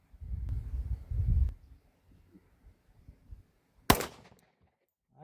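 Pistol shots from a Tisas 10mm firing reloaded ammunition ring out: a sharp loud crack stands alone amid quiet outdoor stillness, with a duller blast and faint rustling before it.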